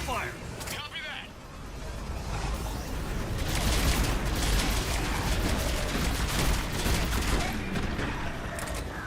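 Sustained volleys of cover fire in the sci-fi shooter game Mass Effect 3, a dense continuous rattle of weapons under a loud battle din, with voices talking briefly near the start.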